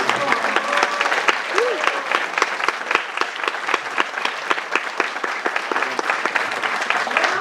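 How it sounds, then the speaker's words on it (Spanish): An audience at a forum on femicide and prisons applauds the speakers with sustained, even clapping, and brief vocal sounds rise over the claps. "Maestro Reyes Peña, otro aplauso."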